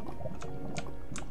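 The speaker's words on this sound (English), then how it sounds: "A lava waterfall." Lava flows down a waterfall in Minecraft with a continuous bubbling, liquid rush and occasional popping bursts, steady and fairly loud with no voices over it.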